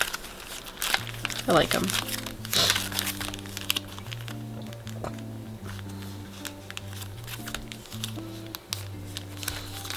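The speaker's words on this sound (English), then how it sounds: "let's pull in some of these Simply Gilded plant stickers while we're at it" Glossy Simply Gilded plant sticker sheets crinkle and rustle as they are handled close up, with a short spoken phrase and soft background music underneath.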